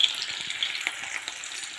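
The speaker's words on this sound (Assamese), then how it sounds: "তেলটো যেতিয়া গৰম হয় মই তেতিয়া পিঁয়াজখিনি দি দিলোঁ আৰু এতিয়া মই তেজপাত দুটা দি দিছোঁ" Chopped onion and two bay leaves fry in hot oil in a wok, giving a close, steady crackling sizzle with small pops throughout and no voices.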